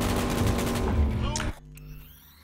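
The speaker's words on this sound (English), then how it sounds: "Please, just shoot and explode them." Rapid automatic gunfire in Cyberpunk 2077 rattles loudly for about a second and a half, then cuts off abruptly, leaving quieter game ambience behind.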